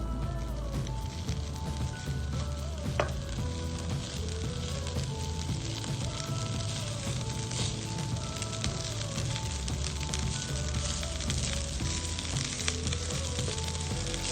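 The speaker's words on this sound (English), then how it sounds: "Mix in all of the ingredients evenly until the rice turns red." Kimchi fried rice is stir-fried in a pan, its red-tinged rice and ingredients mixed together. A steady, dense sizzle runs close and unbroken throughout, with faint scraping of the stirring utensil and no voices.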